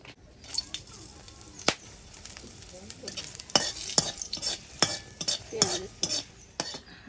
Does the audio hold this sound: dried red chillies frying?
yes